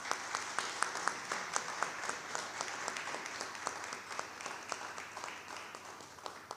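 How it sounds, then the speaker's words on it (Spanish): Applause from an audience closes a talk on video games at a computing conference, with quite faint, fairly sparse clapping and distinct individual claps standing out, slowly tapering off. "Por favor, un fuerte aplauso."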